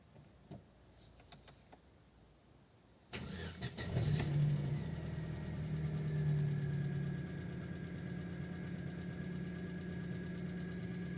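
A car engine cranks and fires after a few faint clicks in a quiet cabin, then settles into a steady, even idle that continues to the end.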